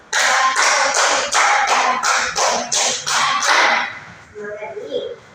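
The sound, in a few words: students clapping ten claps for themselves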